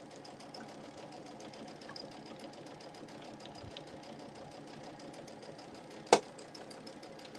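A sewing machine runs at a slow, steady pace, its needle ticking in an even rapid rhythm, quiet and close, with one sharp knock near the end and no talking.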